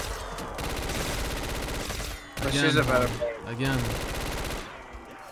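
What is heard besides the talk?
gunfire in Black Ops 3 Zombies video game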